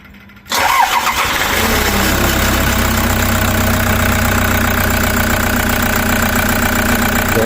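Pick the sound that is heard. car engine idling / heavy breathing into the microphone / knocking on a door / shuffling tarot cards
car engine idling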